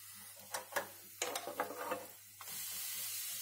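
A gas stove knob is turned off in a home kitchen after tempering dal khichadi with dried red chillies and hing: a few sharp ratcheting clicks near the start, then a steady hiss of background noise.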